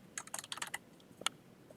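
Rapid keystrokes on a computer keyboard as code is typed, a close burst of clicky taps for most of a second, a pause, then a few more isolated clicks.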